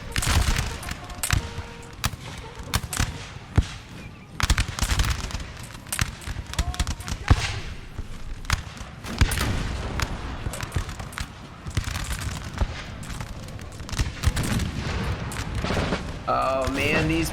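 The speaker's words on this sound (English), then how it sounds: "And you see these guys are getting just constantly hit by artillery." Napoleonic Total War 3 battle between Prussia and France, with rapid booms and crackling volleys of cannon and musket fire in dense irregular bursts, loud and continuous, with voices faintly mixed in.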